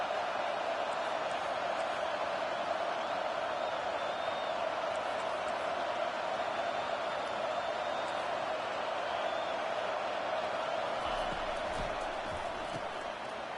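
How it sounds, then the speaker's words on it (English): Steady roar of a college football stadium crowd backing the defense during a red-zone stand, a broad continuous wash of distant cheering with commentary over it. "The crowd getting behind this defense as they try to get a stop in the red zone."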